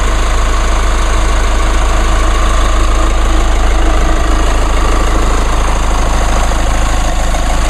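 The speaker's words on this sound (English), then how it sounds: "Nice and quiet for a diesel engine." A diesel truck engine with a cast iron block and aluminum head idles steadily and loudly up close, a continuous low rumble with a fine rapid knocking texture and no voices.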